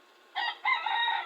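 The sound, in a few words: chicken clucking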